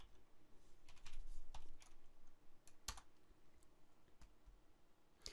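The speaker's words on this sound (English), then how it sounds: "now I'm going to type in the one-time passcode that I received as a text" Keys tapped on a computer keyboard while a one-time passcode is entered to set up an Amazon account, giving a quiet, irregular run of close clicks of varying strength.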